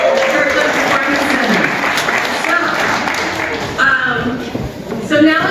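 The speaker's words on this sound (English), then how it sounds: "Let's give a round of applause for our MC, Jim Lopez." Sustained applause from a crowd at a pitch competition fills the Kirkland Performance Center hall, steady and loud, with voices mixed in throughout.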